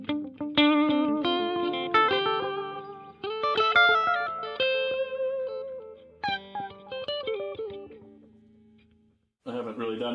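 An electric guitar plays through a Donner 3 Delay X 3 Reverb pedal combo set to a faster tap tempo: a run of bright, quickly repeating notes with echoing tails, brief pauses, then a final strum.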